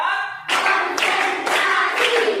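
Classroom of students joining a teacher's counted focus clapping routine, talk at the start giving way to loud, close group claps landing in even beats about every half second.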